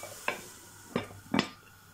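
Chopped carrot and onion cooking in a pan, with three distinct scraping stir strokes over a faint, steady sizzle, close by and with no talk.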